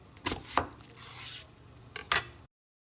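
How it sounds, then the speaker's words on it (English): A few crisp knife strokes chopping onion on a cutting board, with a scraping sound between them, close and fairly quiet. "So I'm gonna be chopping some onion."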